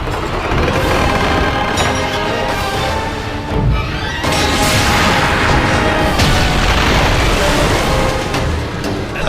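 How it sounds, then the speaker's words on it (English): Loud, continuous battle din from the God of War: Chains of Olympus PSP game at the Battle of Attica, with ballista shots hitting ships amid repeated booming, crashing impacts and dense fighting noise for the whole stretch. "go shoot the ballista to stop those ships from firing to you"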